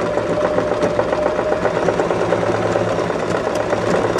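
A domestic sewing machine stitching a buttonhole in fabric, its motor whirring loud and close in a steady hum with a fast even needle ticking throughout, no pauses.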